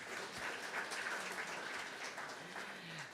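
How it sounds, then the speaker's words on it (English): An audience at an awards ceremony claps in a steady, dense patter that holds at moderate loudness throughout, heard from some distance; no talking. "So yes, please give yourselves a big round of applause too."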